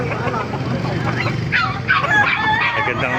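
A Hatch Gray gamefowl rooster crows nearby at a busy outdoor market, its call rising over a background of chatter and crowd noise.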